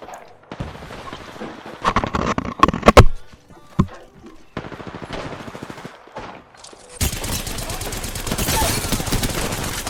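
Apex Legends gunfire comes in bursts of rapid automatic shots with pauses between them, then settles into a long, steady stream of fire toward the end.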